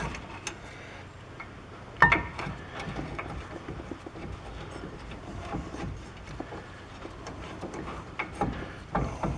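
A ratchet turns a rear brake bolt on a 2014 Chevy Silverado, with faint clicking pawl ticks and a few sharper metallic knocks, close but quiet over a low workshop background.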